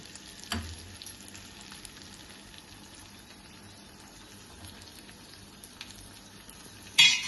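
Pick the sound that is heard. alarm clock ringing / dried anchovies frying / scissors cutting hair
dried anchovies frying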